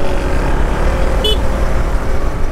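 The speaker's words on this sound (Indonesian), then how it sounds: "Coba kita buat nyalip truk ya." Honda CB150X motorcycle overtaking a truck on the road, a loud continuous engine and wind rush with a short horn toot partway through.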